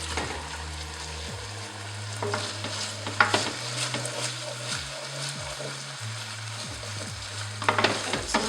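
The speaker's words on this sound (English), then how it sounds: "So stir that around." Brussels sprouts and sweet chilli sauce are stirred in a hot pan for a warm salad, with soft sizzling under repeated scraping strokes of a utensil against the pan, close up and without speech.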